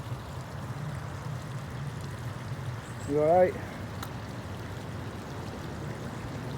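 Water flowing in through a tunnel entrance in a walled woodland gives a constant, even rushing hiss. Partway through, a person briefly speaks close by over it.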